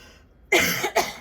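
A single person's cough, close to the mic: two sharp bursts after a brief quiet moment, loud and dry, with no talking around it.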